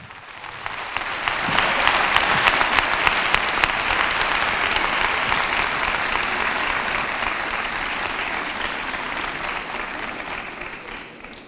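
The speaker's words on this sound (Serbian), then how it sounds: "molim vas veliki aplauz za našeg posljednjeg govornika na drugoj ceo konferenciji" Applause from a conference audience in Belgrade greets the final speaker, a full, dense roar of clapping that swells quickly and holds steady for about ten seconds before tapering off.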